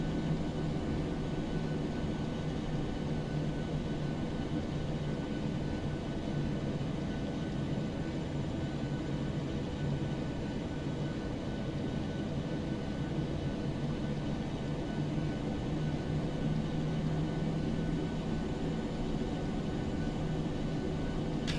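A Boeing 737-800 taxis in a flight simulator, its engines giving a steady, unbroken broadband hum with a low tonal drone throughout.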